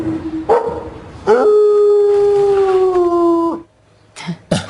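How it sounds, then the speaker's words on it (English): A dog howls in a long sustained wail that holds steady for a couple of seconds, preceded by a short yip and followed by brief barks, loud and close. "I'd like to call in and complain about a howling dog"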